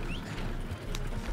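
Horse hooves clip-clopping in the Red Dead Online video game, a steady run of hoofbeats under busy game ambience with no talking.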